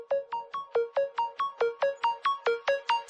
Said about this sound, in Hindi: एक्सक्यूज मी, फोन आ रहा है।